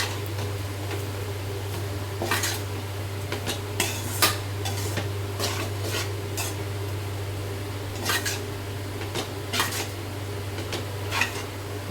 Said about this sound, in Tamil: எடுத்து வச்ச சாதத்தை போட்டுருவோம்.